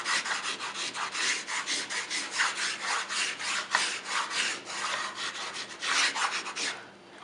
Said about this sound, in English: take a piece of just plain white chalk, and we're going to rub it across the surface